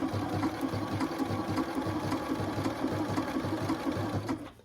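A sewing machine stitching a shamrock appliqué runs in a steady, fast rhythmic whirr, close and continuous, with no talking.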